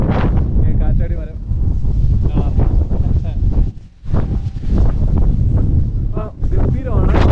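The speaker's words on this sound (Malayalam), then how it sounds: "നല്ല കാറ്റുണ്ട്." Strong wind buffets a boat out on the water near Munnar, Idukki after a morning of rain, a loud, steady rush that never lets up and dips only briefly, with people talking over it.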